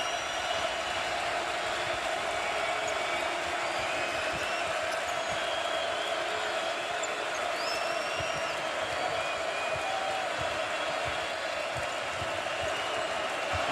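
Arena crowd roaring steadily at a college basketball game, Michigan at Wisconsin, a dense continuous wall of cheering and noise with shouts rising throughout and no break.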